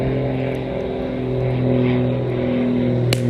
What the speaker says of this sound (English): there's an airplane going overhead